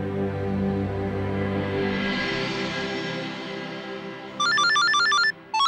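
A mobile phone ringtone starts abruptly after a stretch of quiet background music, playing a bright, repeating electronic melody loudly and close, briefly cutting out before resuming.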